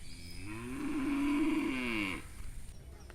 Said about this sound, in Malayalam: ഇത് പശു കരയുമ്പോൾ അങ്ങ് ദൂരെ നിന്ന് മറ്റൊരു പശുവും കരയുന്നുണ്ട്